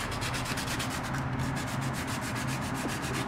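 Steady, continuous rubbing of sandpaper on a DIY wooden canard, held close and even in level throughout with no pauses or voices.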